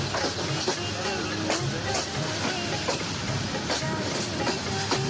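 A train rumbles and clatters at Santahar railway station, with rhythmic clicking over a steady mechanical din and faint voices in the background.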